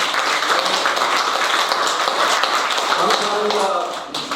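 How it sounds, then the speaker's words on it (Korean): A church congregation at a Christian union founding service gives encouraging applause, a dense, steady patter of many hands clapping that fades slightly at the end, with voices mixed in. "격려의 박수로 우리 힘을 북돋아줍니다."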